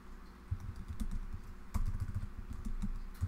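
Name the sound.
typing on a computer keyboard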